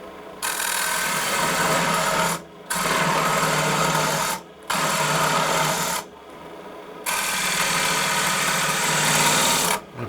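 A big 5/8 straight hollowing tool fitted with a number 2 standard cutter carves aggressively into wood. It makes a loud, rough grinding scrape in four long bursts separated by short pauses, close up with no speech.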